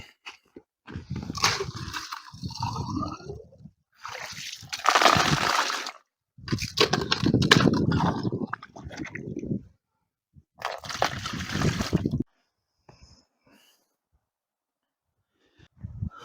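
Water from a bucket used to hold perch on a lake fishing trip is poured out and sloshed in rinsing, several close, loud bursts of splashing and gushing separated by short pauses, ending in quiet.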